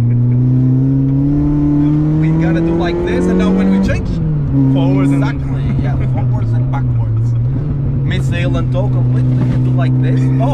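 A Citroen Saxo engine hums and revs through a gear change, pitch climbing, dipping, then holding steady, with people talking inside the car over the motor.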